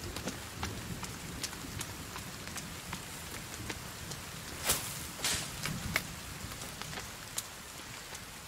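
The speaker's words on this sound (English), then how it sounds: "It started raining just as I built that." Steady rain falls in the survival video game The Forest, a dense wash of patter with scattered sharper drops and a few brighter splashes, constant and fairly close throughout with no speech.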